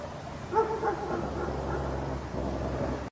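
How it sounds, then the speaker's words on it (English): Several dogs bark persistently at night near a campsite, a few yaps and woofs early on, then fading into a low, steady background. "They bark persistently toward a turn."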